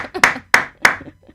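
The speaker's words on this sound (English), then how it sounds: "Applause of one." A single person claps three times, sharp and close, evenly spaced in a slow rhythm, with a faint soft sound just before the first clap.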